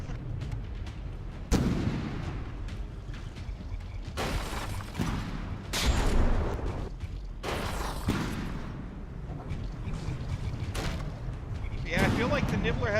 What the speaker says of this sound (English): Those secondaries are hammering away.